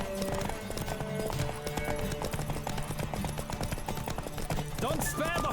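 A horse gallops in The Witcher 3, its hooves beating a quick, steady clip-clop throughout over game music, with a faint neigh near the end.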